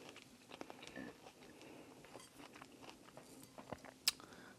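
Close, quiet chewing of a plum during a mukbang eating session, with soft wet bites and irregular crunchy mouth sounds, plus a single sharp click near the end.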